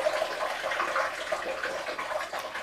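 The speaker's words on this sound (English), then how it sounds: "Now I've got an empty bin underneath to catch the drain water." Continuous drain water from soaked rockwool blocks trickles and splashes steadily into an empty bin, a close, even running sound with no pauses.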